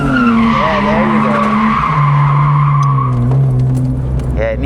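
Car drifting a donut at Achna speedway in Cyprus, tires skidding and squealing in a long continuous wail as the engine holds high revs close by, the pitch sliding down midway.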